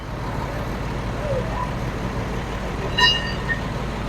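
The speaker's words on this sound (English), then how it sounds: "Sorry about the running truck noise over here" A truck idling nearby on a street where a road pothole crew is working, giving a steady low engine rumble with a brief sharp metallic clatter partway through.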